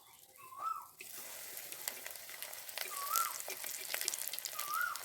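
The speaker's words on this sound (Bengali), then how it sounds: "ঘুগনিগুলো খাওয়ার জন্য তার সাথে কতগুলো চিড়া ভেজে নেব" Flattened rice (chira) fries in hot oil, a faint steady sizzle and crackle running throughout, with soft whistling tones now and then.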